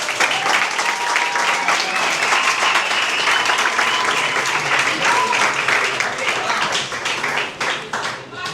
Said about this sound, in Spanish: Un aplauso a mi suegro, por favor.